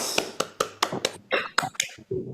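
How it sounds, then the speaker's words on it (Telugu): Applause at the closing ceremony of a 21-day Sanskrit course: a quick, uneven run of sharp individual claps, close and fairly loud, from only a few people, with no talk. "ఉత్తమం కరతాడనం కురువంతు"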